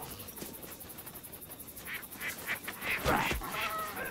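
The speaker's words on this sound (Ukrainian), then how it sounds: "Та гусей погнав" Geese in the video game Welcome to ParadiZe honk in scattered calls, moderately near, over a background of ambient game noise without speech.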